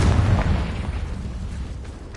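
Bombarda and Confringo spell blasts in Hogwarts Legacy, a heavy booming explosion with a deep low rumble that fades steadily, heard with no talk over it.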